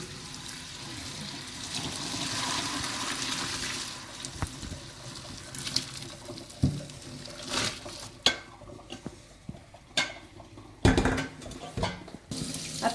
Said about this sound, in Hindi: अब ये जो पानी है नूडल्स का, इसको हम ड्रेन कर लेंगे।